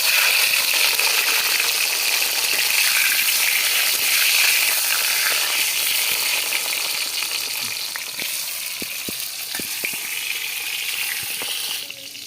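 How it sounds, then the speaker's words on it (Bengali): Eggplant or other vegetables frying in hot oil for a Bengali meal, a steady loud sizzle throughout with a few sharp clicks and taps of a utensil toward the end. "ওটা আমি তেলে ভেজে নিচ্ছি।"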